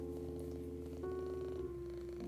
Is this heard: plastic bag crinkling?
no